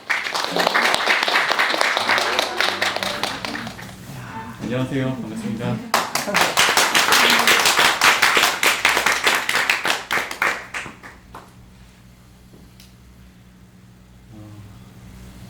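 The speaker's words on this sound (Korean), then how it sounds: "박수로 맞아주세요." Audience applause at a small reading-and-music concert in the Seochon neighbourhood, loud sustained clapping from a close crowd that fades out, followed by a performer greeting the room with a few words.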